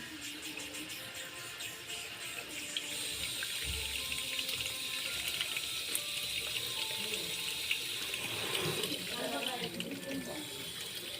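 Tap water runs steadily over raw tripe being washed in a kitchen sink, a continuous splashing hiss that shifts slightly as the meat is moved under the stream, with no speech.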